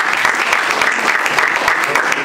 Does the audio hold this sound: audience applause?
yes